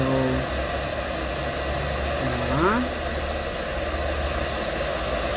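A blower drying a cat outdoors after a bath with Chris Christensen shampoo and conditioner: a loud, steady, close-up rushing whoosh that runs throughout, with a person talking faintly over it near the start.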